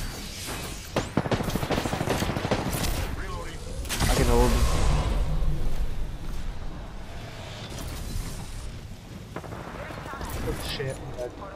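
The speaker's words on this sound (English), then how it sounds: "I'm taking shots. I'm getting shot. Firing." Video game gunfire crackles in rapid bursts with a heavier boom mid-clip, fairly loud and continuous, mixed under excited talking from players.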